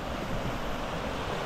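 Swollen high river rushing through a scenic valley in Pakistan, a steady loud roar of water with no break, dense and continuous throughout.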